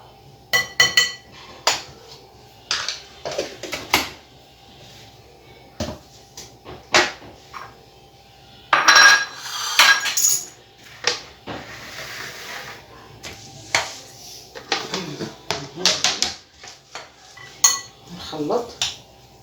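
Spoon clinking and scraping against a dish while mixing food with fish chermoula and harissa, irregular close metallic taps and rattles with a faint hiss in the background.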